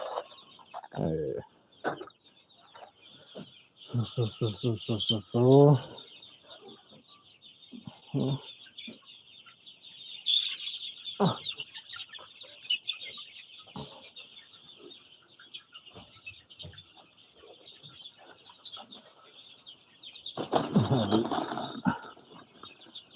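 Chickens cluck and squawk in bursts while jostling over feed, some calls close and loud, with scattered softer clucks and a faint steady background hum.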